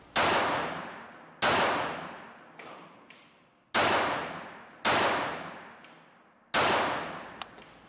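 Six sharp, bright pistol shots from a Walther PPK/S fitted with a 17-pound recoil spring, fired at irregular intervals indoors, each crack ringing out with a reverberant tail and faint metallic clinks between, no voices.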